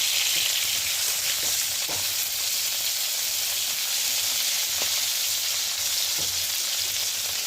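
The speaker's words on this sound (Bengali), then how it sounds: "তারপর এখানে ফুলকপিটা একটু নাড়ছি হালকা হলুদ দিয়ে" Cauliflower pieces fry in oil with a little turmeric, a loud, constant sizzle close by, punctuated now and then by soft knocks of a spatula stirring them.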